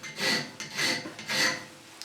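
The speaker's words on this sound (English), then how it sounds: "I'm then just going to put a chamfer on the end there." A hand file rasps across the end of a metal bar to cut a chamfer, three slow even strokes with short pauses between them, close and clear with no talk.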